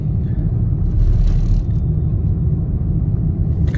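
Toyota Vios accelerating on a highway in manual mode, a steady loud low engine rumble and road drone throughout with a brief change in tone around the middle, no talk.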